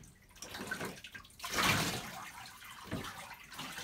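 Splashing, running water from a dog bath as shampoo is scrubbed off a dog named Nova, soft and close with uneven surges and swishes.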